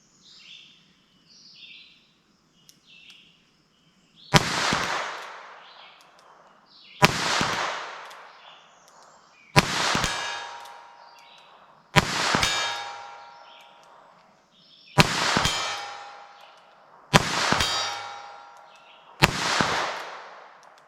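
.22 Long rimfire cartridge gunshots with bullets striking steel targets: seven sharp reports spaced a few seconds apart, each with a ringing metallic clang and decay, faint birdsong in the quiet background.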